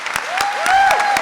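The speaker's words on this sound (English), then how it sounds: "Please join me in a round of applause for these outstanding warrant officers." Audience applause at a military warrant officer candidate graduation ceremony, a loud, dense burst of clapping with a few sharp claps standing out and a faint whistle-like tone running through it.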